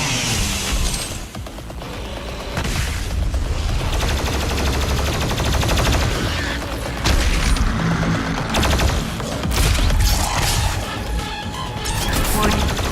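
In Doom Eternal, the BFG 10,000 fires amid constant combat: loud, dense bursts of booming blasts, crashes and shattering impacts, continuous and rapid over a thick layer of battle noise.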